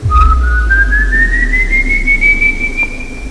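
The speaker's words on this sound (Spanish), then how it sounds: "El silbido, un patrón específico, como una melodía maldita." A single clear whistled melody note glides slowly upward in pitch and holds, thin and eerie, over a low steady hum.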